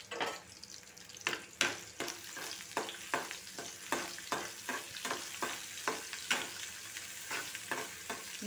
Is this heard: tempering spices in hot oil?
yes